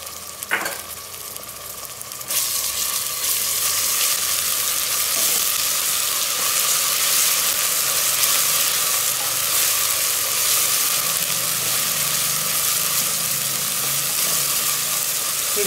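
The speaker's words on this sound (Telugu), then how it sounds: "1 మినిట్ కొంచెం ఇది ఇట్లా ఫ్రై చేసుకోవాలి" Food frying in a pan with an oil tempering for a spiced dish, a loud, steady sizzle and hiss that stays close and continuous throughout, with a brief stir clatter at the start.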